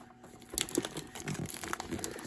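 Plastic packaging on a McFarlane DC Rebirth Batman Frostbite Edition collectible figure box crinkles and crackles as it is cut open, a quiet, close series of irregular rustles and snips with no talking.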